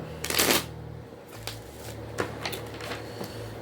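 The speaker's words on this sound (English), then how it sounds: "This needs a shuffle." A deck of tarot cards is riffled and shuffled close by, a loud rapid flutter at first, then several shorter riffles and taps over a low hum.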